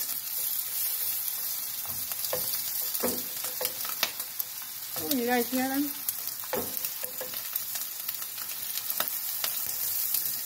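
Continuous crackling sizzle of salami frying in a hot pan with scattered pops, close and steady, while a voice briefly speaks over it.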